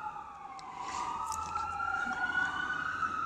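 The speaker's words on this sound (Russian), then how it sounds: "Как раз едет пожарная или это медицинская машина." A wailing emergency siren rises and sweeps by at a moderate distance over low, steady traffic rumble.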